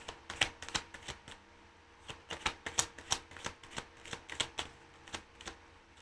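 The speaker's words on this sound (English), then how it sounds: "I didn't even finish shuffling and your first card already came out." Tarot cards being shuffled by hand during a new moon reading, a close, steady run of crisp riffling snaps and soft slaps repeating in quick irregular bursts for several seconds, with no talking.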